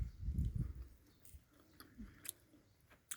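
Crunchy chewing of a firm, crisp pear with slightly tough skin close to the mic, a burst of loud crisp bites at the start, then quieter intermittent munching and small clicks.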